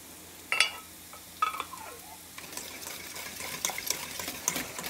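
A spoon stirs cream and parsley into a white sauce in a pan: soft, close scraping strokes with a couple of sharper clinks, then a quiet, continuous swirling sizzle.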